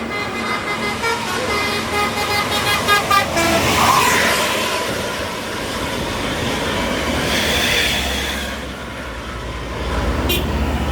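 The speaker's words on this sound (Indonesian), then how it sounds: "Gumarang Jaya tancap gas menuju Jakarta dan sekitarnya, dikejar di belakangnya oleh" A Gumarang Jaya intercity bus accelerates away with its horn tooting several times over a loud engine roar, followed by a continuing rumble of traffic.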